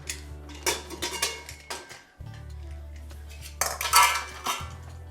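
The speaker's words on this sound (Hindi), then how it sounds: "कुकर खोलती हूँ।" Pressure cooker of boiled rajma being opened, with close metallic clanks and clatter of the lid and pot, a few sharp knocks and scraping amid quieter pauses.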